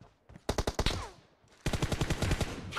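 Two close, loud rapid-fire bursts from an automatic rifle in a PUBG Mobile team deathmatch, each a string of sharp evenly spaced shots separated by a short pause.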